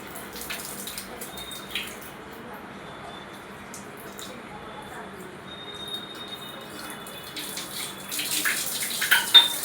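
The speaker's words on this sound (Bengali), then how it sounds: "হ্যান্ডপাম্প দিয়ে আমরা লাইনটা ওয়াশ করে দেবো।" Water runs faintly but steadily through a GI pipe line being flushed with a hand pump, a soft continuous wash that grows a little stronger toward the end.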